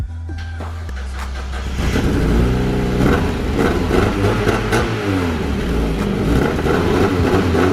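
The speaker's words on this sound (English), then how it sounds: "No, it's got a huge hole in the exhaust." A car engine with a huge hole in the exhaust starts and revs hard, a loud, raw, rasping roar rising and falling through several throttle blips, close up and dominating.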